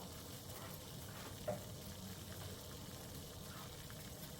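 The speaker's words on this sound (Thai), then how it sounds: "นี่น้ำร้อนเดือดแล้ว" Water boils in a pot with a soft, steady bubbling hiss, faint and continuous, broken by one small clink.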